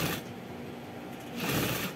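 A sewing machine stitches with thick, strong jeans thread in two close, rapid bursts of mechanical whirring, heard near and clear with no talking.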